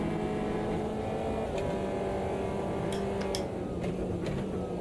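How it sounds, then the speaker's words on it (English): Simulated race car engines from a racing video game, a Caterham Superlight at Donington, drone steadily and closely with a sustained tonal whine, plus a few brief sharp ticks near the end. "So it was just engine noises."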